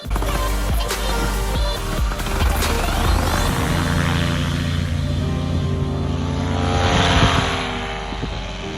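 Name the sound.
paramotor flying with propeller engine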